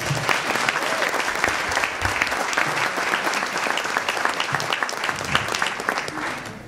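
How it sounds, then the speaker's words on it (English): Audience applause at a Hispanic women's institute event honoring an organizer; steady, full clapping from a crowd throughout, with some voices mixed in. "Let's give her a big round of applause"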